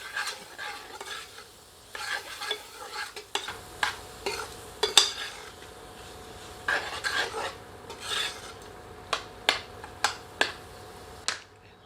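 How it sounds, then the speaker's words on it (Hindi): Spices, tomato and Kashmiri chili masala roasting in a pan over medium heat for ghee murgh, a soft sizzle under frequent rhythmic ladle scrapes and clacks, close and moderately loud. "सबको मिलाकर 1 से 2 मिनट मध्यम आंच पर भूनते हैं।"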